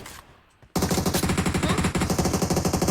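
Rapid automatic gunfire in a shooter video game, a close, loud burst of evenly spaced shots starting after a quiet moment and continuing without pause.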